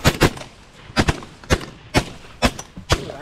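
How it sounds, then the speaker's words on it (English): Shotgun blasts from a goose hunt in Michigan, seven sharp close reports fired in quick succession at a fairly steady pace, with no talk between them. "Jason, shoot him."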